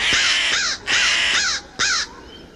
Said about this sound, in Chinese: 那他呱呱叫什么呀？